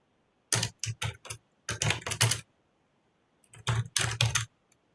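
Bursts of clicking keystrokes on a computer keyboard as code is written, a quick flurry, a pause, then another flurry, close and clear with no voices.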